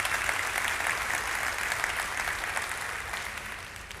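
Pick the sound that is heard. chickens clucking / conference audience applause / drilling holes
conference audience applause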